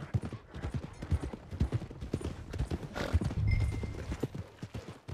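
Horse hooves clip-clop in a quick, steady rhythm in the video game Red Dead Redemption 2, with a brief whinny partway through, fairly faint and without talk.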